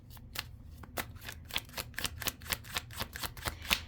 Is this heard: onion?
no